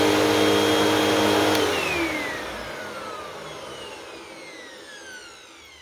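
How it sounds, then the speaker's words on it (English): A Hoover WindTunnel Rewind upright vacuum cleaner runs loud and close with a steady whine, then is switched off and coasts down, its brush roll falling in pitch and fading over several seconds. "Here comes the Hoover wind tunnel rewind."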